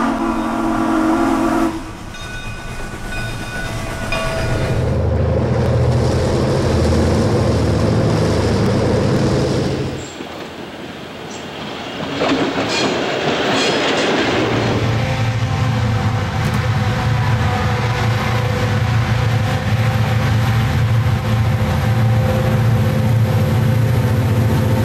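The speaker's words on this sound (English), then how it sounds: "A short southbound freight led by a Mikado splits the semaphore signals as it passes through the yard." A steam locomotive, a Mikado on the Illinois Central, hauls a freight train steadily through the yard, with a loud whistle blast near the start and another in the middle, its heavy engine noise filling the yard.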